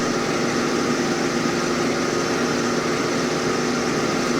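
Simulated Antonov An-2 radial engine running in a flight simulator, a steady, loud droning hum with no change in pitch and no voices.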